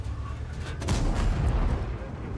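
Heavy tank cannon fire booms in a World of Tanks battle, deep rumbling blasts with lingering roar, one loud shot standing out amid continuous low background noise.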